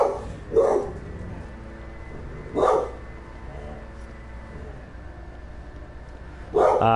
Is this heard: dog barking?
yes